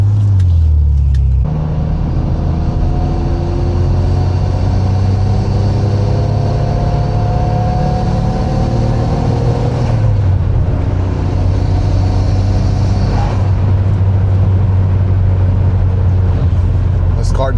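Nissan Stagea engine running loud and close, its deep rumble rising and falling as it revs in a garage, with rough low drone holding steady throughout.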